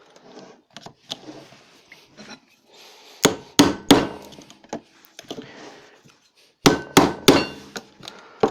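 A hammer strikes two old chisels indoors in several separate bursts of sharp, loud metallic knocks, mostly in quick pairs and triples with short quiet gaps between, plus softer handling clatter.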